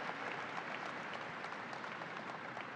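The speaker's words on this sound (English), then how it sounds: "let's give a round of applause for men and women of labor" Steady, dense applause from a large outdoor crowd at the opening of the 2023 Great New York State Fair, a continuous even wash of clapping heard on its own.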